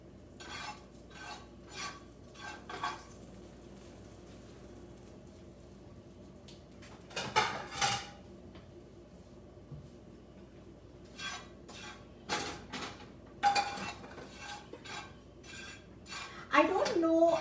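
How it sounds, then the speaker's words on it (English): Pots, pans and metal utensils clink and scrape as sugar is browned in a pot and stirred, bursts of clatter and rasping strokes coming in irregular groups over a low kitchen hum, close and moderately loud. "And we are browning the sugar here."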